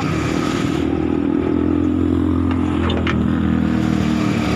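A fuel-injected Toyota Big Body GLI automatic engine runs at a steady idle nearby, a low continuous rumble with a light mechanical clatter on top.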